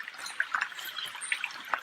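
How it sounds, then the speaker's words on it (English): Gentle trickling creek water with small drips and bubbling splashes, quiet and close, no voices, in a regional park north of Auckland, New Zealand. "So there's the creek that feeds the waterfall."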